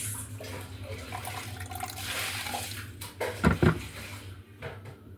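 Water poured into purple sweet potato bread dough, a soft trickle and splash that swells briefly into a couple of louder gurgles, then tapers off.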